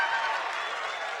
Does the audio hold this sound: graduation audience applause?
yes